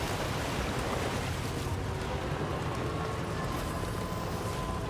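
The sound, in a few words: waterfall in the video game Death Stranding 2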